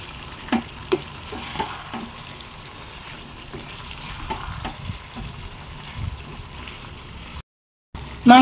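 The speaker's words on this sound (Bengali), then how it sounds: "এবার আমি কাঁচা লঙ্কা, আদা, রসুন বাটা দিয়ে দেব।" Chicken fries in its released juices with green chili, ginger and garlic paste, a steady close sizzle with repeated stirring scrapes, followed by a brief silent gap near the end.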